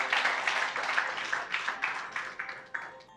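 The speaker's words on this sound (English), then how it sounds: "Please let us give a clap to NACA." Audience applause at a women's capacity building and empowerment event, a steady wash of many hands clapping that swells in repeated waves and holds at moderate loudness for a few seconds without talk.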